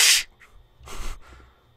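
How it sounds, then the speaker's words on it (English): Heavy, breathy exhalations in the horror video game 123 Slaughter Me Street 2: a loud hissing burst at the start, then two softer rasping breaths, close and without speech. "I hear breathing. It's not my own this time."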